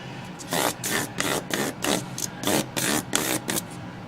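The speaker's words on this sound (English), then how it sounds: "take your little flapper here. This is 1000 grit" A 1000-grit flap sander works over the finish of a Mexican Stratocaster guitar body, making about a dozen rhythmic, close rasping strokes in a steady back-and-forth pattern.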